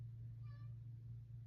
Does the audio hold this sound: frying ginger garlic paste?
no